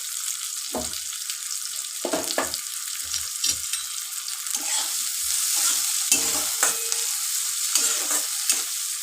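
Onions and green chilli frying in a pan for a potato and chickpea curry, a continuous hiss of sizzling oil with frequent sharp scrapes and knocks of a stirring spoon, close and without speech.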